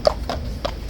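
Horses' hooves clip-clop at Horse Guards in London with four crisp, evenly spaced strikes on hard ground, close by and clear against a quiet background.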